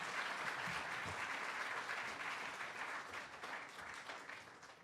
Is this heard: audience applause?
yes